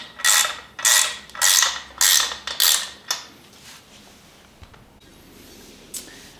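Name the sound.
ratchet wrench with 7/16 deep socket removing motorcycle bracket bolts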